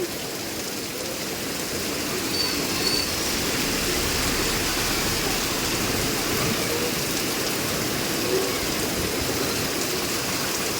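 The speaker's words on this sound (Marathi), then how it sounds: "आज खूप मोठा पाऊस पडतोय" Heavy monsoon rain drums down on a flooded Mumbai road, a loud sustained roar of water and spattering drops, steady across the whole stretch with no voices.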